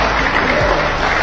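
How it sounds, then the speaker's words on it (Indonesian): An audience claps at a political speech by a deputy speaker of the Indonesian parliament, a steady loud wash of applause that fills the whole moment, close and continuous. "Kalian jangan tepuk tangan seperti itu."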